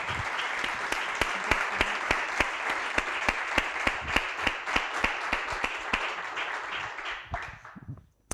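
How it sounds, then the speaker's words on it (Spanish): Sustained audience applause welcoming speaker Remedios Zafra at a cultural lecture series event, a dense, steady wash of many hands clapping with sharper individual claps standing out, fading out near the end. "os pido un aplauso de bienvenida a Remedios Zafra"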